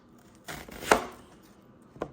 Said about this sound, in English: let's cut the other onion and see what happens